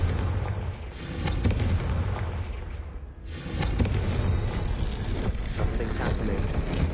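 Confringo fire spell blasts in the Hogwarts Legacy game, two heavy booming explosions with rolling rumble, the second hitting sharply after a brief dip, loud and close.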